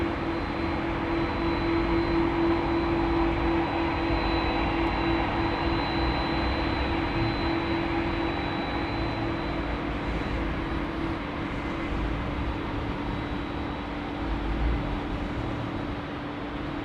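An airliner takes off at Sydney Airport, its engines a steady, even roar that holds at the same level for the whole stretch, with a faint constant whine riding above it.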